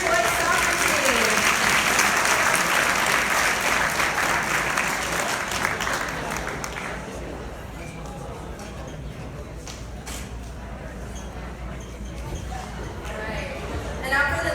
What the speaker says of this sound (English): Can we please give another round of applause for the junior boys soccer team?